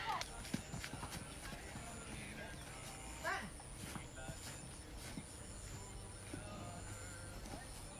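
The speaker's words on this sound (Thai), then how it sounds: "มันขี่ม้าแบร์แบ็คเลยนะเว้ย" A horse ridden bareback on a farm in Loei gives soft clip-clop hoofbeats under steady talk and ambient background noise.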